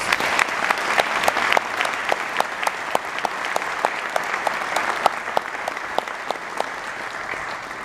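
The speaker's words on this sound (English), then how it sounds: "could we please have another round of applause?" Audience applause at a police chief swearing-in ceremony, a steady wash of clapping with distinct sharp claps standing out throughout, sustained at moderate level with no talk.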